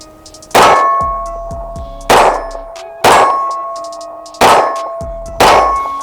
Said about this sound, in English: Let's see if I can ring some steel.